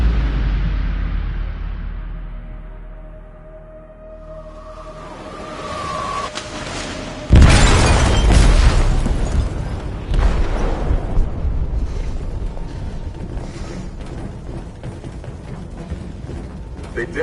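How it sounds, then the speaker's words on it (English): A heavy explosion goes off in a ship's hold in the video game Detroit: Become Human, a sudden loud boom followed by a long rumbling, crackling wash of debris and noise that fills the rest of the scene. "They detonated an explosive in the hold."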